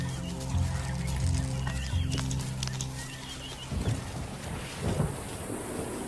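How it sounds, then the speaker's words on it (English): Thunder from an approaching thunderstorm at the end of an African dry season, a deep rolling rumble that swells in the second half after sustained tonal music fades. "As thunderstorms threaten to break the desperate grip of the dry season"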